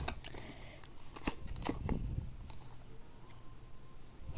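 Love oracle deck cards being shuffled by hand, a close, quiet riffle of repeated card flicks and slides in an uneven rhythm, with no talking over it.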